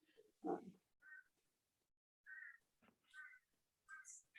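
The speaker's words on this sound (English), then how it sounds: "These crows are just really chatty." Crows caw in short separated calls, several harsh croaks spaced irregularly with brief silences between, fairly faint and distant, no talk over them.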